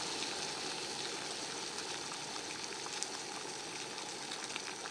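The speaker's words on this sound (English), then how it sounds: "we have a solid rolling boil" Water at a rolling boil in a pot on an MSR Pocket Rocket Deluxe camp stove, a steady dense bubbling hiss mixed with the burner's roar, continuous and close with no talk.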